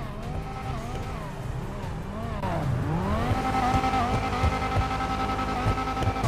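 Bravado Banshee 900R sports car from GTA Online, styled after a Dodge Viper, with a loud, steady engine drone that rises and falls through revs and gear shifts, plus brief tire squeal, close and continuous throughout.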